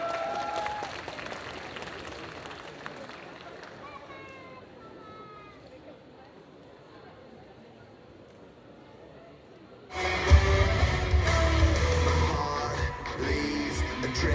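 At the Carolo Game Show 2022 cosplay parade, quiet murmuring and faint voices give way to a sudden loud burst of crowd applause and cheering for a Batwoman cosplayer, which carries on to the end.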